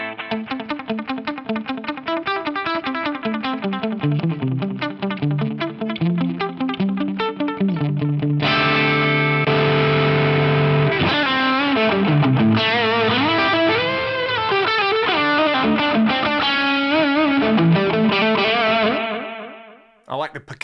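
Clean electric guitar run through a delay effect on a Fractal VP4 with about 300 ms time and high feedback, picked notes and chords trailing into repeating echoes that fade out at the end.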